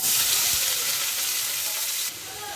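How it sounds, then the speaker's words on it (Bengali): Chopped onions fry in oil with a dried red chilli until reddish-brown, a steady, loud sizzle close by, easing slightly near the end. "পেঁয়াজটা লাল লাল করে ভাজা হয়ে গেছে।"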